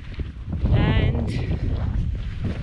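Wind on a coastal hiking trail from Vila do Bispo to Sagres, Portugal, buffets the microphone in a steady, rumbling roar, with a voice briefly heard underneath.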